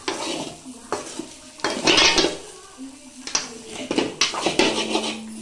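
Chicken and masala stirred in a pan, with repeated scraping and clanking of a spoon against metal in uneven bursts, a faint sizzle underneath and a voice talking in between.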